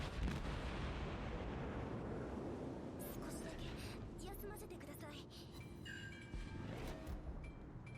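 The Atago cruiser's rear guns fire in World of Warships, a heavy booming salvo rolling over constant engine and sea rumble, followed by sharp crackling impacts.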